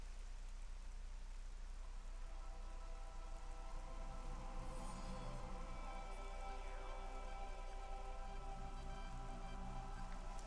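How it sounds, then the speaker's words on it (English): Rain falls steadily in the snowy Phendrana region of the video game Metroid Prime Remastered, a faint, even patter and hiss that continues throughout. "I like how the ground is actually like wet from all this rain."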